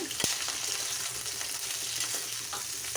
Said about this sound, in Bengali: আনাজগুলো ভালো করে কষিয়ে নেব তেলে